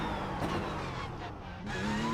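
A Porsche Cup race car engine in the iRacing simulator, a steady loud engine drone with a faint gear change or lift partway, then the revs climbing again.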